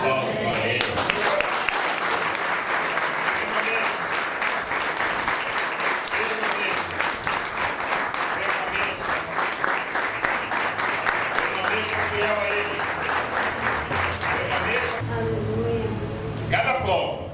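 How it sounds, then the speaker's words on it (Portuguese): A church congregation claps in a long, dense round of applause mixed with voices, steady and loud throughout, thinning slightly near the end. "Dê um aplauso para Ele"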